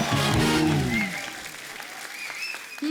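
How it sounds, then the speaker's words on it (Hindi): On a comedy talk show set, a host's voice trails off as the studio audience applauds a celebrity couple, with a busy, fairly loud burst of clapping and a few high cheers or whistles over it. "जोरदार तालियां इस ब्यूटीफुल कपल के लिए।"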